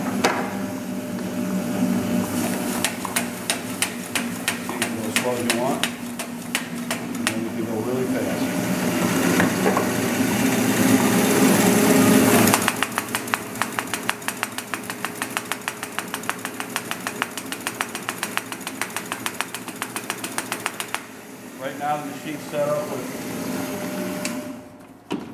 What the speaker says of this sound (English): This is a variable speed machine. So I'll run it slow.